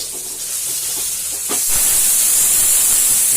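Water pours into a hot cooking vessel with a sudden splash, then a loud, steady hiss of steam rising that continues to the end, with faint kitchen clatter before it.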